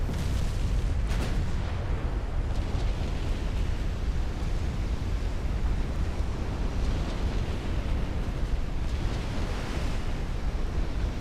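Naval guns roar in the Ultimate Admiral Dreadnoughts warship game, a dense, continuous wash of booming fire and rumble with sea-like noise and a couple of sharper blasts near the start, loud and steady throughout.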